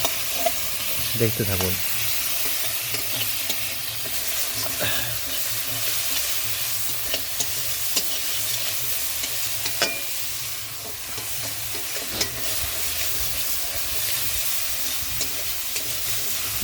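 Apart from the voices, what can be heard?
tomato and spice paste frying in a pan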